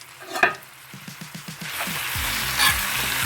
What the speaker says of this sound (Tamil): வெங்காயம் வதக்கி வச்சான்னு பார்க்கலாம்.